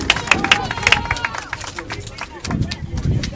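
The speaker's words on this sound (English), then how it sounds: "As you can hear, great support from the home crowd." A home crowd cheers and claps at a college rugby playoff between Arkansas State Red Wolves and Davenport Panthers, heard as a busy murmur of voices with scattered claps and shouts under a commentator's talk.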